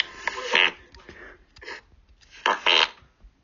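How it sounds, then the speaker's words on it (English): A recorded fart played back through a speaker, several sputtering bursts spread over a few seconds, fairly close and loud against a quiet background. "I love how he records his farts."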